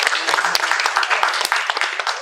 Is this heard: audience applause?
yes